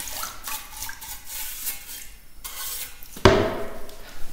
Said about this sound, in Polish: No niestety teraz trzeba umyć. Bo już tutaj na tej pacy też to zasycha.